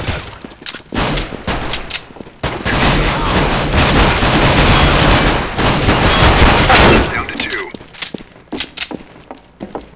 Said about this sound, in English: That was a real gunfight.